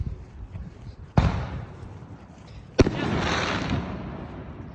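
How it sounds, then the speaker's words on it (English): Two sharp firework bangs go off nearby, the second followed by a sustained crackling, hissing tail that lingers for a couple of seconds, with no voices. "so somebody's doing fireworks or something"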